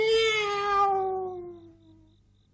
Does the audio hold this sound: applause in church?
no